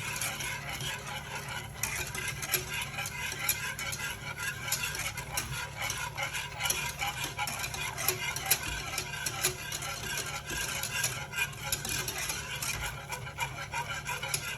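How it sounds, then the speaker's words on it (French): Cream being stirred in a pan on the stove, a soft continuous scraping and swishing with faint ticks, low and steady throughout without talk. "On n'arrête pas de remuer, hein."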